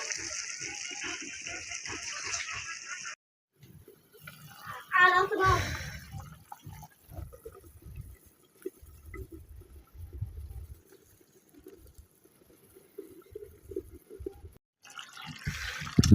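Water is poured into a pan of cooking fish, a short gushing splash in the middle set against quieter kitchen background and faint murmuring voices.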